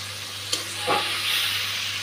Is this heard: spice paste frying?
yes